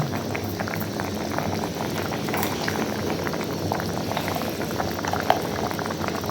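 Rupchand fish curry broth bubbling at a steady rolling boil in a pot, a dense continuous seething with small pops throughout, close and even in level with no talking.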